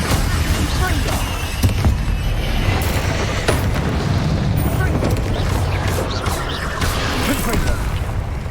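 Confringo blasts in Hogwarts Legacy combat, a dense run of booming fiery impacts and crackling bursts layered over steady game action, loud and close, with a voice calling out spells throughout.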